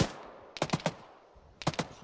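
Gunfire in ArmA 3 comes as two quick bursts of several sharp shots each, loud and close, separated by a short pause with a faint background hiss.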